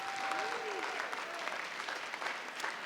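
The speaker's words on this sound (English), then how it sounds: "Let's give them all one big round of applause" Audience clapping fills a high school business career panel event, a steady dense wash of applause from a crowd, with a faint tonal whistle briefly audible early on.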